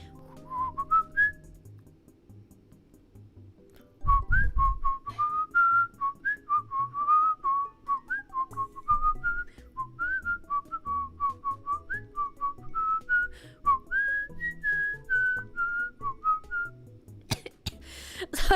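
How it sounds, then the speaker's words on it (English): A person whistles a long melodic tune of wavering notes, pausing briefly near the start before carrying on steadily and fairly close. "I'm good at whistling though."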